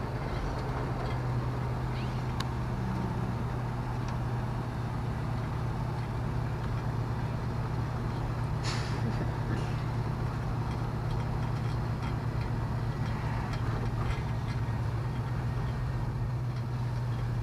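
An LS-swapped Nova drives under its own power with a constant low engine drone and road rumble heard from inside, steady throughout with occasional faint rattles.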